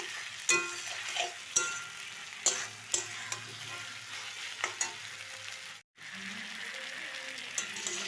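Onions fry for a home-style chicken curry, a soft steady sizzle in the pan broken by sharp clinks and scrapes of stirring, with a brief drop to silence partway through.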